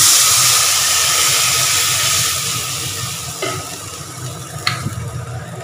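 Water poured onto potatoes frying in hot oil: a loud, close burst of hissing steam that slowly fades, with a couple of brief metallic clinks near the end.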